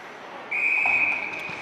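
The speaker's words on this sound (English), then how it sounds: "a whistle just 37 seconds into the first period of play" A referee's whistle at a junior ice hockey game blows one long, steady shrill blast, clear above the crowd and arena noise.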